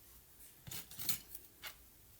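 Scissors cutting through a stack of stamped paper cards at once: a few quiet, crisp snips in quick succession, close and isolated.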